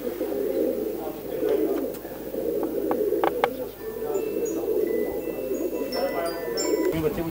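Pigeons coo softly in a Punjabi pigeon loft, low rolling calls over a steady murmur of birds, with a few sharp chirps and faint rustles scattered through the scene.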